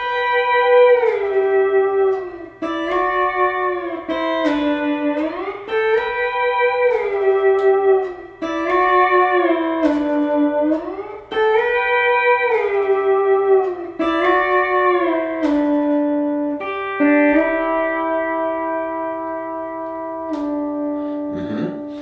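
Guitar plays through the verse and into the chorus of a song, steady strummed chords with a low droning note underneath, clear and close with no voice.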